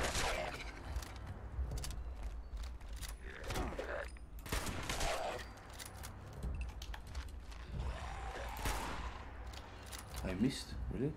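Shotgun blasts in the post-apocalyptic game Fallout 76 boom repeatedly and loudly amid clanking mechanical game sounds and gunfire, with occasional speech mixed in.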